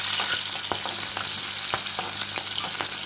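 Chopped green chilies sizzle and crackle in hot oil in a pan, a steady bright hiss broken by sharp pops and occasional stirring clicks, close and fairly loud.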